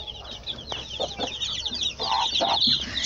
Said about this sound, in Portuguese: Aí tem a galinha com os pintinhos.